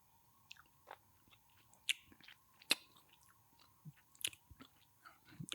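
Wet, quiet mouth sounds of whiskey being chewed and swished while tasting, scattered soft smacks and clicks at close range with no talking.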